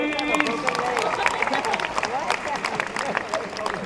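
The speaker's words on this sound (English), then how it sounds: "A round of applause, please" Scattered applause rises from the audience at The Amazing Spider-Man 2 press conference at Marina Bay Sands, Singapore, in brisk claps mixed under voices.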